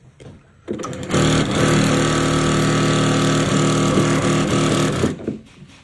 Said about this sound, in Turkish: Kafadan motorlu, iğne pozisyonlu, hız ayarlı dikiş makinası 867.